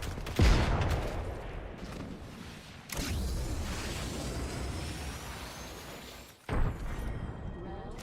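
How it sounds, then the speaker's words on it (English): Apex Legends firefight: a loud close burst of gunfire opens, then sustained rattling shots and mechanical clatter, a second abrupt volley and a final sharp blast near the end, with no voices. "Okay, they're shooting at me."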